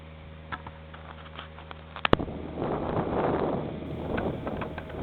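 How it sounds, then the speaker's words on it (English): Outdoor wind buffets the microphone in gusty, rushing swells after a couple of sharp clicks, fairly loud and close with no talking. "the wind has decided to come back again"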